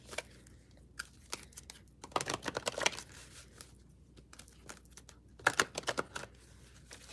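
A deck of playing cards being shuffled, quiet crisp riffling and flicking in two bursts separated by soft handling noises, close and faint with no talking.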